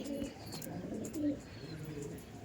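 Male pigeons of the Laldom/Kaldom breed cooing in a loft, a few low rolling coos rising over steady background murmur.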